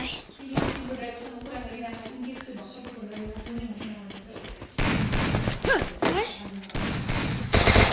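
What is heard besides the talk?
gunfire in the video game Free Fire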